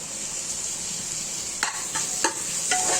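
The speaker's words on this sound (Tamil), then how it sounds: "தக்காளியும் நல்லா வதங்கி வரணும்" Onions and tomatoes sauté in oil for a mutton intestine gravy, giving a steady close sizzle with a few scraping stirs of a spoon in the second half.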